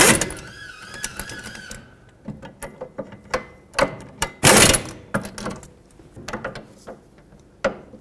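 17mm hub bolts being tightened on a 2001–2007 Toyota Highlander during a rear bearing and hub replacement, heard as close ratchet clicks and sharp metallic ticks in irregular bursts after an opening mechanical whir.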